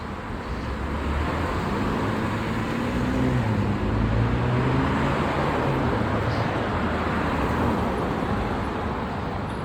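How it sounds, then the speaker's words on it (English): Continuous street traffic at the busy La Cienega and Jefferson intersection in Los Angeles: a dense, even roar of passing cars with low engine hum rising and falling, moderately loud and unbroken, with no talk. "This street has a lot of traffic"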